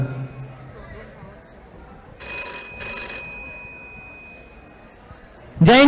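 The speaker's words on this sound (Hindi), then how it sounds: "उसी बीच इंडियन आर्मी के हेडक्वार्टर से फोन आता है।" A telephone in a student stage skit about the Indian Army rings twice in short bright bursts after a spoken line, followed by a loud sweeping tone at the very end, with a hall ambience underneath.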